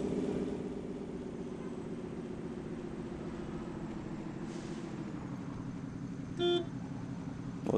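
Steady hum of busy road traffic with passing cars, fairly quiet and continuous, broken by one short car horn toot near the end; no one speaks.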